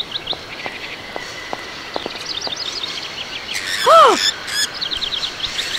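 Angry small bird squawking and chirping in the video game Syberia, a series of quick tweets then a louder swooping squawk, over steady background ambience.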